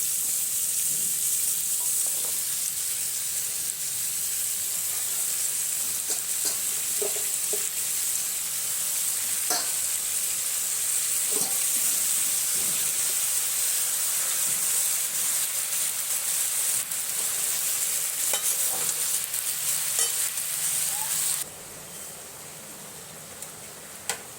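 Salted leafy greens fry in a pan with a steady, loud sizzling hiss and occasional light stirring clicks, carrying on for a long stretch before the sizzle drops noticeably near the end, with no talk.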